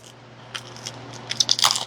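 Crunchy crab cheese bread is bitten into, giving a few sharp crackling crunches that build toward the end, close and fairly loud with no talking.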